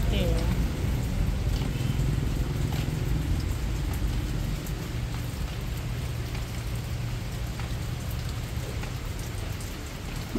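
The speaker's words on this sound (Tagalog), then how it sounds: "at maulan pa rin po dito sa amin" Steady rain pours down outdoors, a continuous soft hiss with scattered drips, fairly faint and unchanging throughout.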